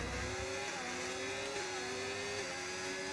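A Porsche Formula 1 car engine in the F1 25 racing game holds a loud, continuous high-revving whine with a steady pitch and a slight upward shift, with no talk over it.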